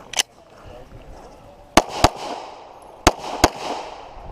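Handgun shots fired during an IDPA shooting match stage ring out sharply, one early shot followed by two pairs of quick cracks, close and loud over faint background noise.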